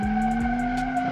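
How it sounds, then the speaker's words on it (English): A car doing a burnout in the BeamNG.drive driving game, the engine droning steadily under a continuous high tire squeal with no talking, loud and close throughout. "Not only donut time, also burning out time, so you can do a burnout also."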